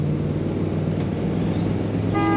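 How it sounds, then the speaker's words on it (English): A 1959 Ford Thunderbird convertible's factory horn sounds a steady toot near the end, over the low idle rumble of the running car. "Factory horn working well"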